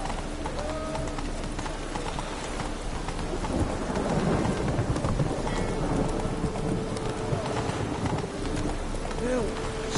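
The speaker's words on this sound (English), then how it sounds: "Rain like this would fetch a fortune." Steady rain pours with rolling thunder rumbling underneath in The Witcher 3, a dense continuous stormy wash, with hoof-like clopping and a voice briefly heard.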